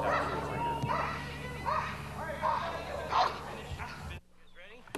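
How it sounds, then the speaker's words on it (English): A police dog barks rapidly and repeatedly during a police academy training exercise, loud and close, layered with shouting voices and commotion, before the noise drops away near the end. "Hey, you come here, I'll send my dog!"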